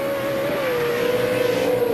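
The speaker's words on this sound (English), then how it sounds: "how wicked do these trucks sound when they're screaming." Off-road race trucks at full throttle on the TORC Primm short course, a steady high engine scream holding one sustained tone with slight pitch shifts, loud and continuous, under broadcast commentary noise.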